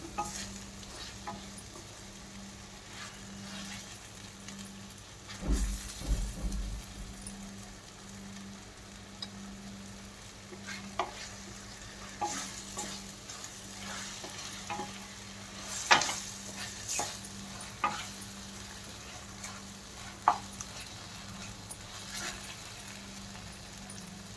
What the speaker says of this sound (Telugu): టమాటా పచ్చివాసన పోయే వరకు మనం అటు ఇటు కలుపుతూ ఉండాలి.